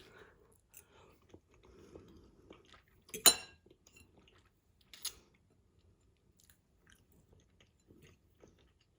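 Soft, intermittent chewing while tasting a dish made from leftover cheese sauce, with a sharp clink of utensil on a dish partway through, close and quiet.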